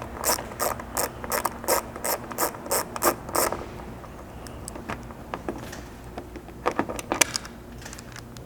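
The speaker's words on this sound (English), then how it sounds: "you can access the single fastener here and get it removed" A ratchet wrench clicks as it loosens a fastener on a roof rack mounting bracket of a first-generation Toyota Sequoia, with quick bursts of sharp, close ratcheting clicks, a pause, then a few more clicks.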